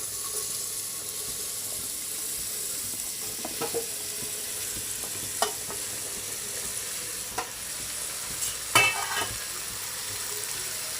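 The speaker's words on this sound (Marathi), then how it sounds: "त्याच्यानंतर लगेच ह्याच्यामध्ये हा दुधी भोपळा घालायचा आहे।" Bottle gourd (dudhi) goes into a hot pan of oil and is stirred, giving a steady soft sizzle with scattered clinks and scrapes of the spoon against the pan, no talking.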